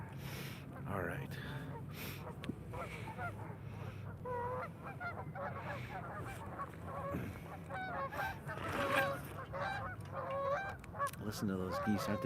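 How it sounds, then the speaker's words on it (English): A flock of geese honks steadily in overlapping calls outdoors, with someone speaking now and then over the birds. "Listen to those geese."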